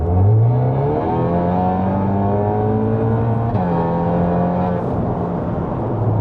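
A Stage 3 tuned Cupra Formentor in comfort mode pulls hard in a roll-on. The engine note rises loud and close, drops briefly at a gear change partway through, then climbs again.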